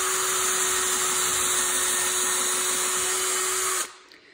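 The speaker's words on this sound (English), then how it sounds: "when you're using the power drill, you want to put one hand on the trigger and the other hand on top of the drill" A power drill whines at full speed with a steady, loud, high-pitched motor drone while drilling a hole in wood, running continuously before cutting off abruptly near the end.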